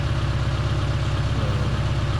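A Holden Barina ML engine idles in a steady, slightly rough low throb with a fast regular pulse, loud and close with no talking.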